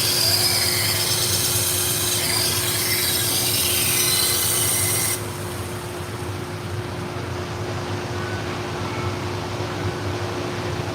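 A badly neglected, dull knife blade grinds steadily against a sharpening wheel, a broad continuous rasping that stops partway through, leaving a lower steady motor hum with no talking.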